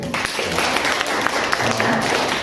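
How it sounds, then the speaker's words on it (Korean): A church group claps in a short burst of applause after a correct quiz answer, brisk and dense, with some voices mixed in. "박수 한번 쳐주세요"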